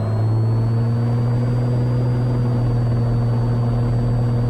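A Cessna Skylane's piston engine runs at high power for takeoff on runway 28, a loud, steady droning hum with a strong low tone that holds level throughout, heard from inside the cockpit with no voices.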